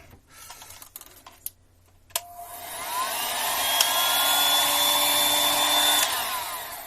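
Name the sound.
heat gun blowing hot air on Surface Pro 6 screen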